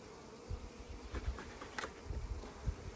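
Honey bees buzz around a large, populous hive colony, a steady faint hum with a few louder passes of individual bees flying close by.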